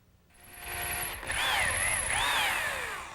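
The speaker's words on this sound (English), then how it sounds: "Now the holes for the dowel pins I'm making with a 1/4 inch brad point bit" Power drill boring dowel pin holes in oak with a 1/4 inch brad point bit, the motor whining up and rising and falling in pitch as it cuts, close and steady.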